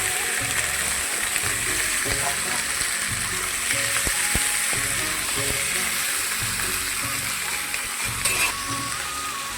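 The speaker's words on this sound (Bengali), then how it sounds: "পেঁয়াজটা লাল লাল করে ভেজে নিয়েছি এখন চিকেনটা দিয়ে দিব" Chicken pieces hit a pan of onions fried until reddish-brown, setting off a loud, steady sizzle with clinks of a utensil stirring against the pan.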